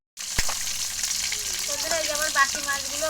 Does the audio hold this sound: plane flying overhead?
no